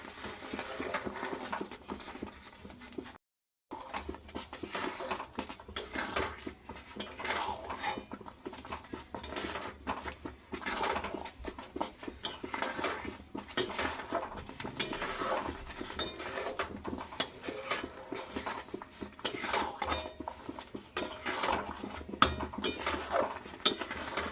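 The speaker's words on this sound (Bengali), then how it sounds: "সমানে নাড়াচাড়া করতে হবে তল উপর করে করে" Raw mango pickle is turned over again and again in a pan, a spoon scraping and knocking against the metal in a dense, continuous clatter, with a brief gap early on and no voices.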